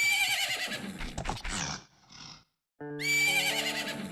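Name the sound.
horse Epona neighing in video game Majora's Mask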